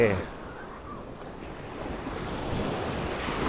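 Soft surf washes steadily on Chao Sadet beach in Chanthaburi with wind buffeting the microphone, the waves swelling slightly toward the end.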